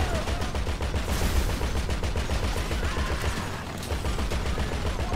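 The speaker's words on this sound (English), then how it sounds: "Getting shot from a lot of places." Heavy, continuous video-game gunfire rattles from several directions at once, dense rapid bursts of automatic shots pouring in steadily and loudly throughout, with no pause in the barrage.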